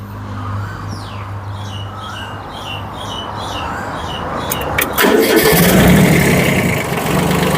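Old imported Kubota B1502 compact tractor with rotary tiller, its diesel engine already warm, cranks and catches into a steady near idle, a loud mid-low rumble that grows fuller and louder after start.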